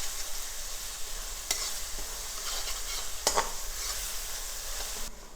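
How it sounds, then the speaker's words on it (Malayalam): Fish pickle masala fries in a pan with a constant hissing sizzle, while a spoon stirs and scrapes through it in a few sharp strokes close by. "നല്ലോണം മൂത്തോട്ടെ, മൂത്താലേ അതിന് ടേസ്റ്റ് വരുള്ളൂ."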